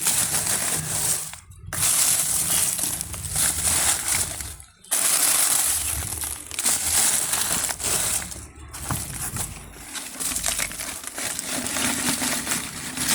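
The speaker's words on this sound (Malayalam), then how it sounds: "ഇനി നമുക്ക് കുറച്ച് ഇലയും വാഴത്തോലും ഒക്കെ നമുക്ക് ഇട്ട് കൊടുക്കാം" Dry leaves and dried banana peels tumble into a soil-filled planting sack for sweet potatoes, a busy crinkling, crunching rustle that runs almost continuously with a few short pauses between handfuls.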